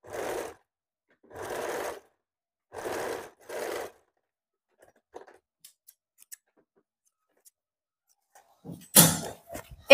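A sewing machine stitches blouse fabric together with its lining in four short bursts of rapid needle clatter, followed by a near-silent stretch of faint clicks and a louder handling clatter at the end.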